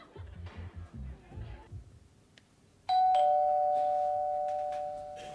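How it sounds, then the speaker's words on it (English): A doorbell rings once with a loud, sustained two-tone chime that slowly fades, following a stretch of muffled talk and background noise in a London flat. "Is that the bell, Del?"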